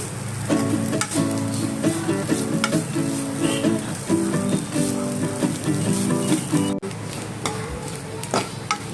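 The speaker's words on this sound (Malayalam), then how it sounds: "നല്ല ബ്രൗൺ കളറാകുന്ന വരെ വറുക്കുക." Steady crackling sizzle of coconut frying in a pan, close up, with repeated scraping and stirring strokes against the pan.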